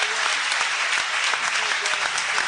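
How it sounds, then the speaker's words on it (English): Applause fills a roundtable on prison and its aftermath as the audience claps for the panelists, a loud, continuous patter of many hands that stays even from start to finish. "Can you please join me in applauding the courage of these panelists?"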